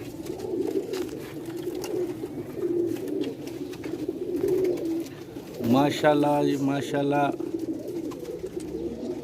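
White-necked Sialkoti pigeons coo in a low, steady, overlapping murmur close by, with a voice briefly speaking over the flock near the end.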